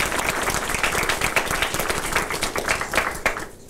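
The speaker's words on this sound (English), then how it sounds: "let's give her a round of applause" A press conference audience applauds a student speaker, dense steady clapping from many hands, fairly close and sustained before tapering off at the end.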